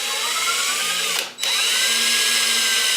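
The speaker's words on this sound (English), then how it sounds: "Let's go drill this hole." A power drill bores a hole in a mini bike frame with a loud, steady, high whine. It briefly stops and spins down, then starts up again at full speed.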